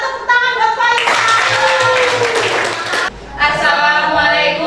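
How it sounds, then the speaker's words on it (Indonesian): A classroom of students clapping hands in applause for a classmate about to present. The clapping is steady and sustained for several seconds, with voices cheering and chattering over it. "tepuk tangan buat Faisal."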